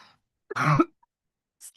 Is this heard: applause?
no